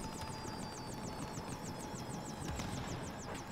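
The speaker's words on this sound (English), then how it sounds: "the nice thing about using an LMG is you can shoot a helicopter down" Helicopter in Call of Duty: Modern Warfare Remastered, a steady rotor and engine drone with rapid rhythmic chopping held at constant loudness throughout, mixed with game background noise and no talk.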